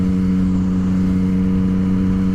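A Yamaha FZ-09 motorcycle with an Akrapovic full titanium exhaust and its decibel killer removed holds a loud, steady rumble at close range, without pauses or other sounds.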